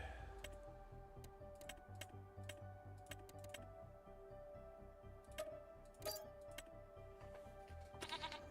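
Goats bleating among livestock in the video game Farming Simulator 25, a few short bleats over a steady game ambience with soft clicking, moderately quiet and without talk.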